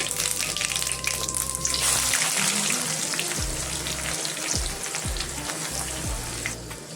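Steady sizzling of onions frying in hot oil with cumin, loud and close, with a few light clinks and stirring sounds scattered through.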